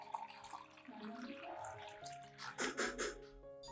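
Clean water, about 1.5 liters, pours steadily into a container to dilute a filtered orchid-reviving solution, a quiet running splash that swells into heavier gushing toward the end.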